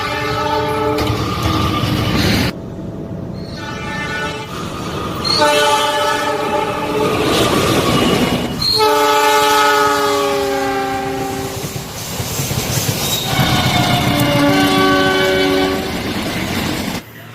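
A train hauled by a CC206 locomotive with old railway carriages passes close by, sounding loud repeated horn blasts over a steady rumble of wheels on the rails.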